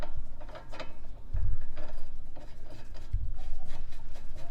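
A sway bar end link on a Porsche Cayman 987 is screwed in by hand, giving a close, continuous rubbing and ratcheting grind of threads and metal parts with a couple of low knocks.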